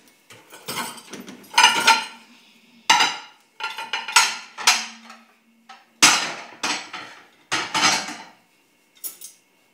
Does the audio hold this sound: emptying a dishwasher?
yes